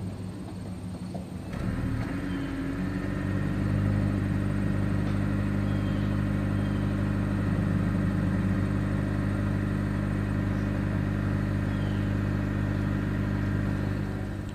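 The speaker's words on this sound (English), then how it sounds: "As always, here is that exhaust clip." A 2021 Honda Insight Hybrid starts up and settles into a steady, low engine hum at the rear exhaust, constant and moderately loud with no talking.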